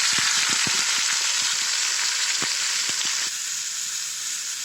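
Bitter gourd and jackfruit seeds frying in mustard oil give off a loud, steady hiss and crackle, close by, with scattered small pops and spatters and no voices.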